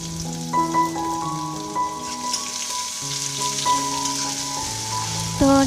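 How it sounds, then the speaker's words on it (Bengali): Onion frying in oil in a pan, giving a steady, continuous sizzle that runs under background music from start to finish. "তারপর দেখো পেঁয়াজটা একটু ভেজে নিলাম"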